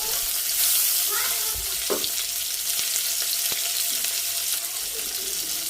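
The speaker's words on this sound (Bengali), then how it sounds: "এইগুলো দেওয়ার পর আমি ভালো করে আলু আর পেঁয়াজগুলো ভেজে নিচ্ছি" Potatoes, onions and slit green chillies fry in a pan for a chapila fish chorchori, a steady sizzle with a few stirring scrapes and clinks over about six seconds, no talking.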